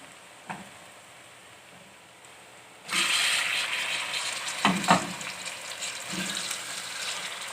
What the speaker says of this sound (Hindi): बटेर को फ्राई करेंगे